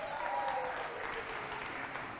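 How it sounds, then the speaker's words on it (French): Audience at a children's holiday event between Fondation Dieu Béni and SOS Village d'Enfants applauding an elder jury president, a dense, steady wash of clapping from a large crowd, fairly loud and continuous throughout. "C'est un ancien, on l'applaudit bien fort."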